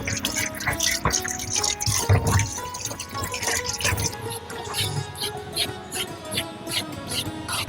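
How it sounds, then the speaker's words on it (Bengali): Cut bottle gourd pieces being washed in water, with splashing, dripping and trickling close by alongside handling knocks and clatter, no speech. "এইবার 4 ভাগ করে ভালো করে ধুয়ে নেব।"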